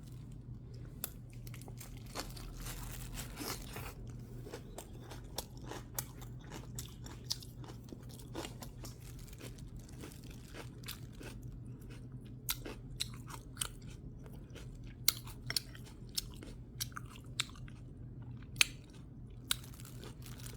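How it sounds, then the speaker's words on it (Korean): Someone chewing a mouthful of rice topped with fresh napa cabbage kimchi, with a steady close crunching and sharp bites repeating throughout over a low background hum, no talking. "김치를 얹어서 먹으면 되겠습니다"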